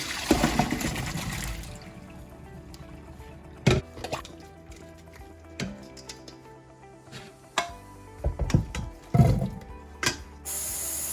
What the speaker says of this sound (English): I like to rinse them off.